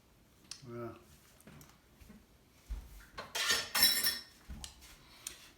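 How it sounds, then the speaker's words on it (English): A spoon clinks and scrapes against a dish while sour cream is stirred into taco fillings on frybread. The clinks are close and irregular, with brief pauses. "I got sour cream here. Stir that around a little bit."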